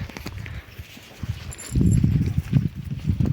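A heavy Volodymyr draft horse mare's hooves thud slowly on soft ground, close by, with low rustling and shuffling between steps.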